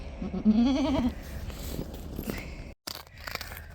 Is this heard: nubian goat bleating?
yes